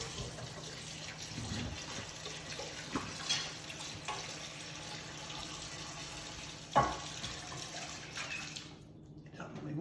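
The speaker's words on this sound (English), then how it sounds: "Something washing up in the background." Dishes are being washed up in a kitchen, with faint running water, splashes and occasional clinks of crockery in the background; the water cuts off near the end.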